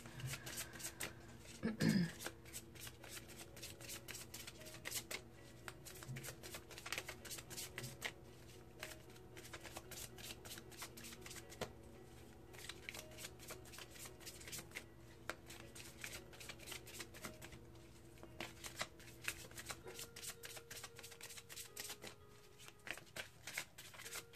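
Oracle cards being shuffled by hand, a soft continuous riffling and flicking of cards close up, quiet and steady with a few louder taps, no speech over it.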